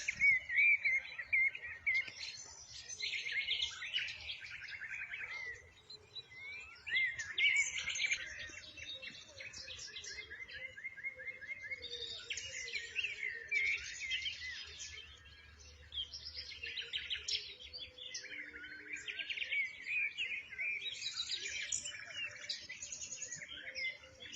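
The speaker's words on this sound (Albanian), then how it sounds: "Dëgjone fillimisht të qërimin e zogjve." Birds chirp and sing in spring countryside between villages, a steady mix of overlapping bright calls and trills at moderate distance, with a faint low rumble beneath and no voices.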